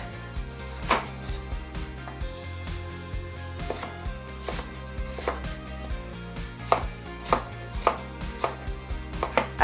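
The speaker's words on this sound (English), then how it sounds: "We're gonna go ahead and chop these up nice and small so they cook fast. Cut your sweet potato in half like that." A knife chops sweet potato into small quarter-inch cubes on a cutting board, with sharp, fairly regular strikes recurring through the clip and growing louder and more frequent toward the end, over a low background hum.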